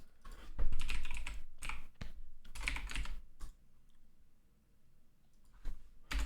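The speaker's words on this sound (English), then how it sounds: "That was me typing it." Quick bursts of typing on a computer keyboard, clustered clattering keystrokes close by, pausing into near quiet before a few final taps.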